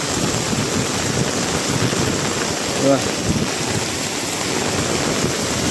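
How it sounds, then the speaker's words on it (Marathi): Heavy monsoon rain pours steadily over rice paddy fields, a dense constant hiss with wind buffeting the microphone, loud and unbroken, with a faint voice once or twice. "आणि जोराचा पण पाऊस चालू झाला आहे"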